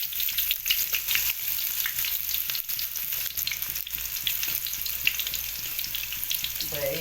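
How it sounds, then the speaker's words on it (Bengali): Onions browning in hot oil for Bengali chicken curry give a steady, close, dense sizzle that runs unbroken throughout, with faint scraping and stirring noises underneath. "পেঁয়াজটা ব্রাউন হচ্ছে।"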